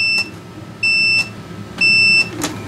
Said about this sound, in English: Now I should be able to pull that and get a beep.